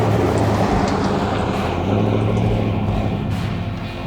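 A Chevy pickup truck rolls past on a quiet road, a loud, broad rumble of engine and tire noise that stays close for a few seconds and then begins to fade.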